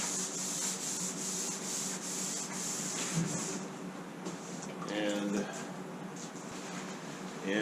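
Cloth rubbing over a cured epoxy and urethane finish on a boat hull, a steady soft scrubbing that runs throughout with a faint hum of room noise behind it.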